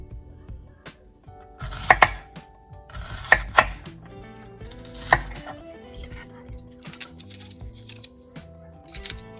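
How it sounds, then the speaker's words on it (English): A knife cuts a medium-sized onion into thin rounds on a board, a few sharp distinct chops standing out over quieter scraping, with soft background music underneath. "This is like a medium-sized onion. I'm going to cut them in round shape and very thin."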